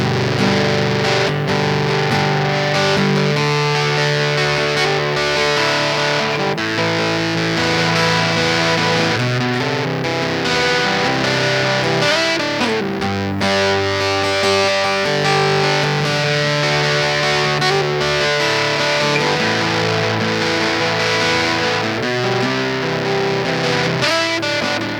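An acoustic guitar runs through a Surplus overdrive distortion pedal, producing loud, sustained, heavily saturated chords and ringing notes that continue without a break and fill the whole stretch.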